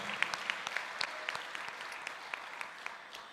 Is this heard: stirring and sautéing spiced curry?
no